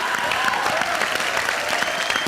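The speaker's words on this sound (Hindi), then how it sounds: "इसके लिए बहुत सारी तालियां बजाओ कि लड़की होके" A studio audience at a television comedy show claps for a comedian, a brisk and even burst of applause from a crowd.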